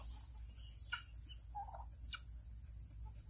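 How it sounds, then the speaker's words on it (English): Turkeys on a farm in Texas, penned alongside geese and chickens, gobbling faintly at a distance over a steady background hiss, with a few short warbling calls. "Good morning, turkeys,"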